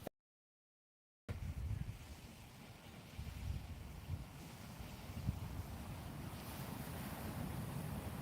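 Ocean surf breaking on a beach beside dunes, heard after a moment of silence as a steady wash of waves and wind noise with rising, swelling surges, fairly close and unaccompanied by talk.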